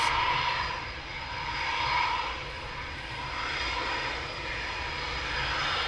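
A Eurofighter Typhoon sits at RAF Coningsby, and its jet engine gives off a loud, continuous roar that swells and eases gently over a few seconds. No one talks over it.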